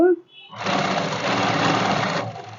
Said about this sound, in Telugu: కుట్టేద్దాము మిషను నాది కొంచెం బాగా అదురుతుంది